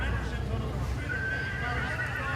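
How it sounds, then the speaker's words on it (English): A horse-neigh novelty horn on a 1966 Ford Mustang sounds loudly at a Fourth of July parade in Coronado, a whinnying call over crowd noise and low rumble. "With a horse neigh as a horn."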